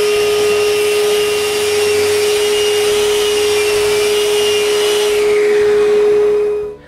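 A domino joiner plunges mortises into mahogany pieces for a bedside table, giving a loud, steady motor whine with a high tonal hum that runs throughout, then winds down at the end.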